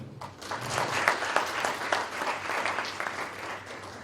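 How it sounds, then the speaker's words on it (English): Applause from an audience at a career-development programme event, many hands clapping that swell to a fuller peak around a second in, then hold steady and taper slightly, with sharp individual claps standing out. "A good applause to them."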